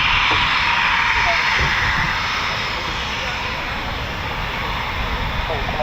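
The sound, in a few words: Eurofighter Typhoon FGR4 jet aircraft at RAF Coningsby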